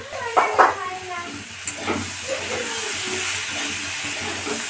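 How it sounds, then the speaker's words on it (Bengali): Spice masala for a banana stem curry sizzles and fries in a pan, with a few clattering stirs early on and a steady hiss of frying underneath throughout. "তো এবার এটা আমি ভালো করে কষিয়ে তারপর থোড়টা দেব।"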